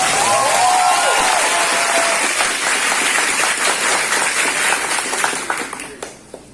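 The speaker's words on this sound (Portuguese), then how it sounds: "Os aplausos são bem-vindos, mas as vozes nesse momento não." Audience applause fills a hall during a campus election debate for an institute's general directorship, sustained dense clapping from a crowd that tapers off toward the end with a few scattered claps.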